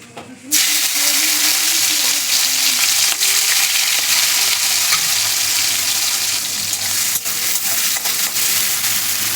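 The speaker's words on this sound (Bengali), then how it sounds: "আমি চিংড়ি মাছটা ভেজে তুলে নিয়েছি।" Prawns sizzle loudly in hot oil in a pan, a constant close hiss and crackle that starts abruptly and continues unbroken, with occasional stirring scrapes.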